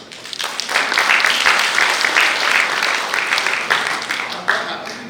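Applause from a 200-person audience at a corporate awards event, a broad steady wash of clapping that rises quickly and holds at moderate loudness for the whole stretch, with a few sharper claps near the end.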